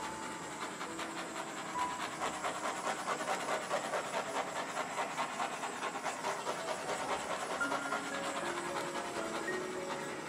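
A heat gun or torch blowing over an acrylic paint pour to pop air bubbles, a continuous airy hiss with a faint pulsing flutter, fairly quiet and steady throughout.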